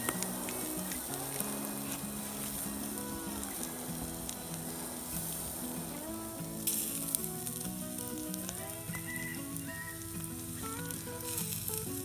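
A tri-tip roast sizzling on a grill over a campfire just after being flipped, a dense, constant crackle and hiss at close range with faint tonal background sounds woven through, no voices.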